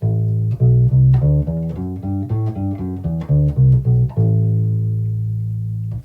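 A plucked guitar runs through an A Dorian scale, single notes rising and falling at a steady pace, ending on a held, ringing note.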